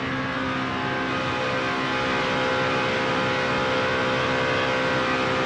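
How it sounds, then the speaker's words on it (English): NASCAR Camping World Truck Series race truck engine held at full throttle through a corner exit, a loud, continuous high-pitched roar that stays steady and wide open from start to finish. "Sounds like Kevin comes maybe about half out of the throttle, then back down hard, stays wide open all the way on the exit of the corner as well."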